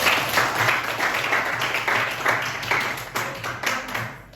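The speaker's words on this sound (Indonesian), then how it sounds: "Tepuk tangan untuk Rere." A Catholic religious education class applauds a student after a closing prayer, a steady wash of many hands clapping at moderate distance, filling the room with dense, even patter throughout.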